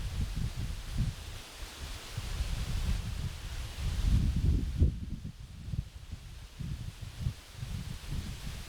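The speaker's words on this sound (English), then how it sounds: "Big gust here" Wind gusts outdoors at an airgun shooting range, a broad, steady rumbling roar with fluttering low buffeting against the microphone that swells and eases throughout, with no voices.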